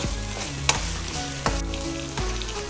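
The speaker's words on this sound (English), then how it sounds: "Keep sauteing them. Keep the flame on medium-high." Thin strips of chicken for pad thai sauté in a pan over a medium-high flame, a soft steady sizzle broken by three sharp stirring scrapes spaced under a second apart.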